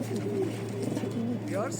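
Proven racing pigeons in a loft give soft, low rolling coos over a steady background hum, with a human voice partly overlapping.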